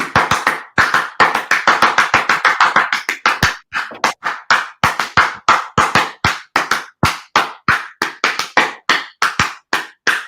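Rapid, loud hand claps in quick uneven bursts, dense at first and then more spaced, continuing steadily with no talking.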